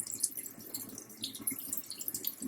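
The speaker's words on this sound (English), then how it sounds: "rinse your hands and your wrists before you even apply soap" Warm tap water runs into a kitchen sink as hands and wrists are rinsed, a steady soft splashing with small irregular spatters, fairly quiet and with no talk.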